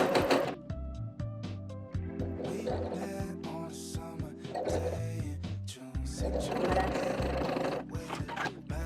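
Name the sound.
sewing machine zigzag stitching elastic onto pajama pants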